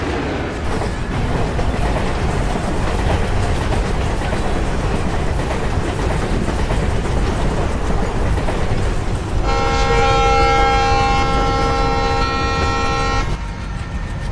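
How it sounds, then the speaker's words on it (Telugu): A passing train in Train Simulator on a Central Railway route in India, a steady loud rumble of wheels throughout, joined midway by a sustained multi-tone horn blast lasting several seconds before cutting off. "ఇక్కడ ఆపోజిట్లో ట్రైన్ వస్తుంది"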